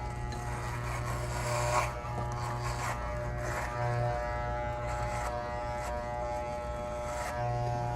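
Electric hair clippers with a guard buzz steadily through a home buzz cut, a close, continuous motor drone with a strong low hum that shifts slightly in pitch as the blade moves over the head, with no talking.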